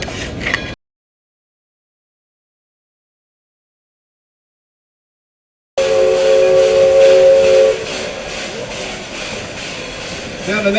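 A gear-driven, all-wheel-drive narrow gauge steam locomotive gives a loud sustained whistle blast with hissing steam, starting after a stretch of silence, with a brief voice at the start and more talk continuing over the steam.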